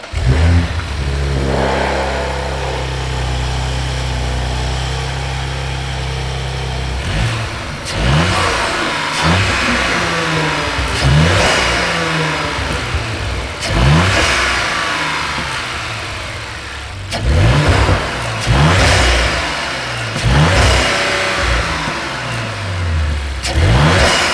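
An Audi B9.5 RS5 Sportback with an Eventuri intake idles with a deep, even rumble, then revs sharply again and again, each blip rising and falling close up, with short pauses between bursts.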